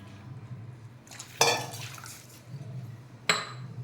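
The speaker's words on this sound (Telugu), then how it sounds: "3 నీళ్ళు వేస్తున్నాను" Water is poured into a pan for rava kesari, about three measures to a ratio of one to three and a half, in two short splashing bursts over a quiet background.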